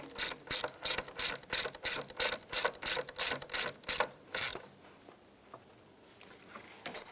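Rapid ratchet wrench clicks tightening a fog light wiring kit part on a 2010-2017 Chevrolet Equinox, about a dozen crisp evenly paced bursts close up, then quiet.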